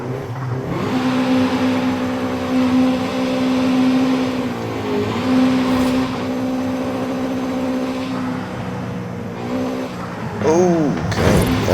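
A Honda Civic EP3 Type R engine screams high in its VTEC range during a speed run, holding a loud steady tone with brief dips between pulls and a chirp of wheelspin near the end.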